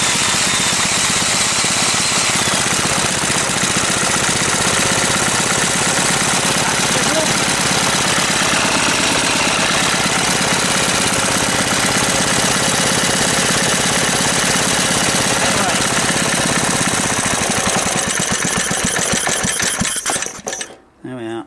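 Mystery Engine No 13, running with spacers fitted, chugs loudly and continuously with a fast, even mechanical knocking rhythm close by, then cuts out abruptly near the end.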